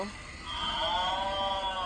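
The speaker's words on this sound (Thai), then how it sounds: "ต่อไปนี่เป็นพี่วัว" Cartoon cow mooing, a drawn-out tonal low that swells after a brief pause and holds steady to the end, close and clear with no talk over it.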